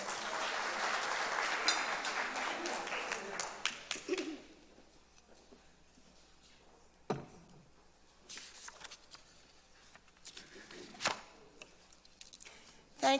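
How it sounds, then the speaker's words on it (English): Applause from an audience at a meeting, a dense burst of clapping for the first four seconds that then dies away, leaving scattered faint claps and handling noises in a quiet room. "Let's have another round of applause for today's sponsors."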